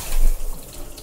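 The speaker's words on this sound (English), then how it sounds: "let's just check the water pressure coming out of the shower" Water from a cruise ship cabin's bathroom shower sprays in a steady hiss, strongest at first and then easing off slightly, with no voices.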